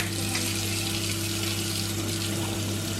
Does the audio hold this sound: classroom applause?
no